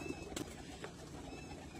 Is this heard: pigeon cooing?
yes